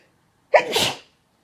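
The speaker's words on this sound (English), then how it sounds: "I'm gonna sneeze." A single sharp sneeze, close and loud, with a quick burst followed by a breathy trailing release, then silence.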